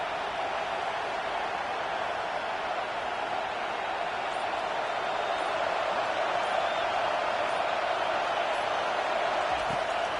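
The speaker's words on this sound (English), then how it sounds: "listen to this crowd noise. This stadium is vibrating." Stadium crowd in a 2K25 football video game, a dense continuous roar that holds steady and loud from start to finish with no clear breaks.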